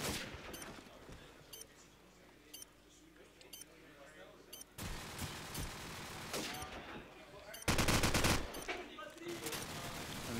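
Gunfire from an esports match between CEFO and TLR: bursts of shots fired through a wall crackle repeatedly, with a loud burst near the end, under steady caster commentary.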